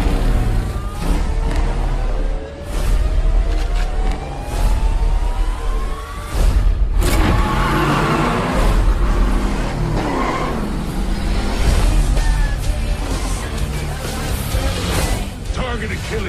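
Race cars in an action movie trailer roar and rev, tires squealing and skidding over loud engine noise, with dramatic music and voices mixed in throughout.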